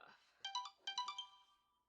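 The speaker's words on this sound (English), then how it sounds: "I apologize for my cell phone." Cell phone ringtone going off during a makeup tutorial, a bright electronic melodic chime in two short repeated bursts, faint and alone without talk.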